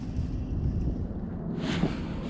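Strong wind buffets a fishing boat on a lake during a cold front, a loud, steady rushing roar with a brief gust swelling near the end.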